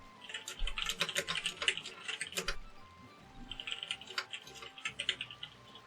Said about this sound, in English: If you can hear that my keyboard has a bit of a different sound to it